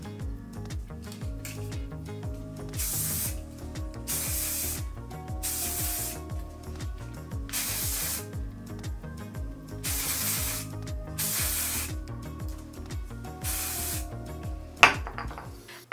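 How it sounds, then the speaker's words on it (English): Texturizing hair spray hisses from a can in about nine short bursts, each lasting roughly half a second to a second, close and fairly loud over faint background music. "let's throw in some texturizing spray"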